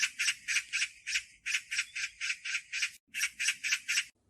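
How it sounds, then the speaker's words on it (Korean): A magpie chatters in a rapid series of harsh, rattling squawks, repeated in quick even bursts with a brief pause, clear and close. "그때 옆에 있던 나무 위에서 산까치 우는 소리가 들리는 게 아니겠습니까?"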